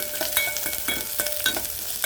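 Slit green chillies with chopped garlic and ginger frying in a pan, a steady sizzle broken by repeated scraping stirs of a spoon, close and fairly loud.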